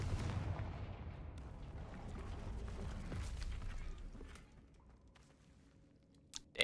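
A Confringo blasting spell goes off in the Hogwarts Legacy video game, a deep, booming rumble that slowly fades to near quiet before a sharp click at the end.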